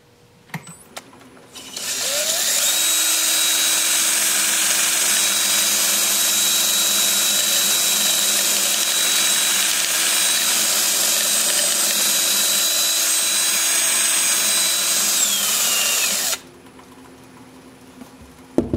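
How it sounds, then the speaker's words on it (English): A wood lathe spins a Russian olive spindle at about 300 RPM while a sandpaper dowel is held against it, giving a loud, steady whirring hiss that runs unbroken for about fifteen seconds before stopping. "The lathe is spinning about 300 RPM."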